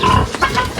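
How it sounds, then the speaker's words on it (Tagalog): Many farm pigs in their pens grunt and squeal close by, with short overlapping snorts spread across the clip over steady barn noise. "Ito yung baboy nila, ang dami."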